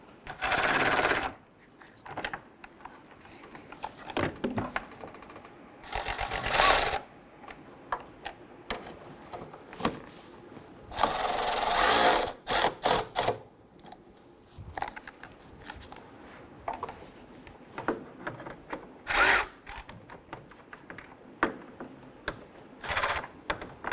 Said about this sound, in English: Let's go ahead and tighten them all down.